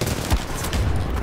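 Shotgun blasts in a first-person mech shooter, a burst of loud close booms crowding together over about a second with low rumbling tails.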